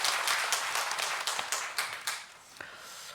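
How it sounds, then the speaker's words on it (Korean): A church congregation claps during a Sunday morning worship service, a burst of rhythmic group applause with regular beats that gradually thins and fades toward the end. "우리 하나님께 영광의 박수 올려드리겠습니다."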